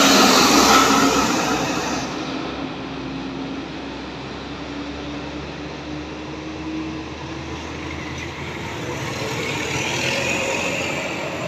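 Two intercity buses, a CKJ and an Armada Indah, rolling past one after the other at night near Stabat and Tanjung Pura, a steady broadband engine and road roar that peaks at the start, eases and swells again, with no talk.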